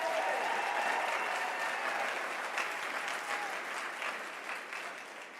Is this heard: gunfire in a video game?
no